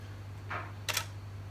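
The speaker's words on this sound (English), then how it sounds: "Instantly you hear it shoot a lot quicker." A DSLR shutter fires at 1/200th of a second, giving a quick mechanical double click that is close and fairly faint over a low steady hum.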